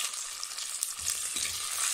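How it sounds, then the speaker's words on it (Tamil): Garlic, curry leaves and green chilies frying in a pan, a steady close hiss of sizzling oil with faint low stirring knocks near the end; no talking. "கருவேப்பிலை, 2 பச்சை மிளகாய் போட்டுக்கலாம்."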